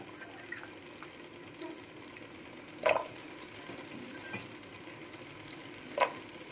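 Meal maker soy chunks fry in oil with a faint, steady sizzle, broken by two sharp clicks of a utensil against the pan.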